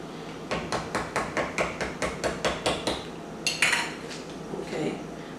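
A utensil clinks rhythmically against a bowl while sugar is mixed for a navy bean pie filling: about a dozen even, steady strokes, then a few scattered knocks and scrapes, close and moderately quiet with no talking.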